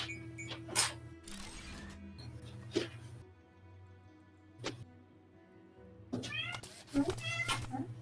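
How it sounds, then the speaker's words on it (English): A house cat meows insistently several times in short bursts between stretches of quiet, over a low steady electrical hum and some mechanical clicking, with people talking at moments. "I've got a cat screaming for me too"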